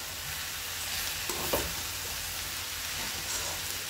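Raw jackfruit palya being stirred in a frying pan, with a steady soft sizzle and a few light scraping strokes of the spoon against the pan, quiet and close, with no voices.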